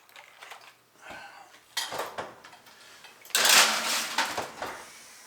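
A tray of eggshells clatters and scrapes against metal as it is slid into an oven, with a few light knocks followed by a louder rattling clank.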